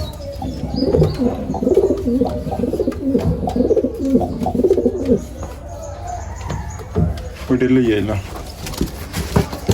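Lahori pigeons in their new loft coo in close, repeated throaty rolls, with soft chirps and a voice speaking now and then.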